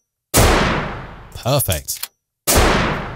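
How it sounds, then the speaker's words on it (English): Film-style gunfire sound effects: a loud, booming gunshot with a long decaying tail, then brief mechanical clicks and a short spoken word, then a second heavy shot, all close and dominant. "And then we'd like the sound of the gun loading, wouldn't we?"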